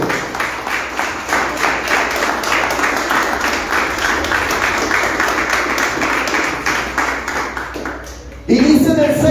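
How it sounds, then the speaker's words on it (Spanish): A church congregation applauding during a sermon, loud rhythmic clapping in rough unison that carries on for about eight seconds, then cuts off abruptly as a louder close sound takes over at the end. "Dale un fuerte aplauso al Señor."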